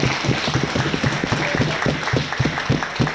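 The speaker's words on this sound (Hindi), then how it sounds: "मैं एक बार चाहता जोरदार तालियां होनी चाहिए" Audience applause for a speaker at a motivational business event: steady, dense clapping from a crowd, fairly loud and sustained throughout with no talk over it.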